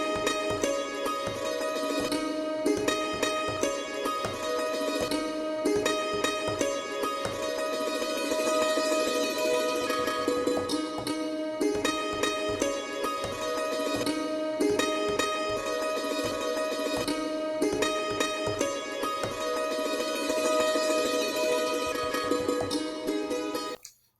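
Pitched-up sample chops play on an Akai MPC, a dense, continuous melodic loop of chopped and re-triggered slices with steady level throughout, no drums or talk.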